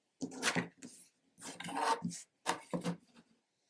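Fabric quilt squares being trimmed produce three short bursts of rasping, rubbing cutting noise, close and fairly quiet with brief gaps between.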